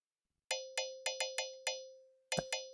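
Bright metallic synth plucks, an icy crystal-like patch made in Harmor, ring out one after another in an uneven rhythm, each decaying quickly, with a final rapid cluster of notes.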